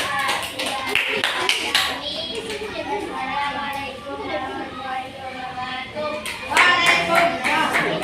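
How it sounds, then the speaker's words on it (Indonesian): A classroom of students claps for a presenting group during a practice teaching session, with scattered hand claps and children's chatter and voices mixed throughout, swelling louder near the end. "Tepuk tangan"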